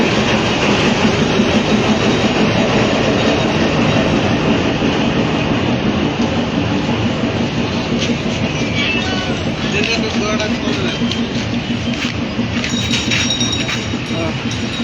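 A local passenger train on the Parbatipur–Panchagarh route rumbles past close by at Pirganj railway station, with steady clattering wheels and a continuous loud roar, with metallic squeals and clinks toward the end.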